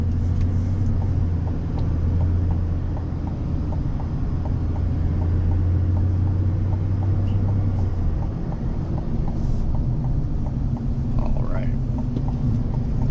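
A steady low diesel engine drone and road rumble from inside a moving 2024 Chevy Silverado ZR2 pickup merging onto a highway, continuous and loud, with a soft voice faintly underneath.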